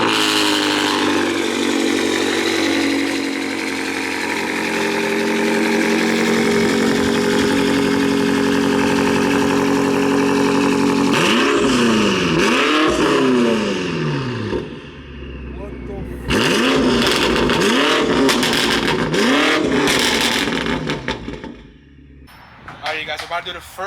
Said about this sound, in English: This car has Catless Downpipes and it has the M Performance exhaust.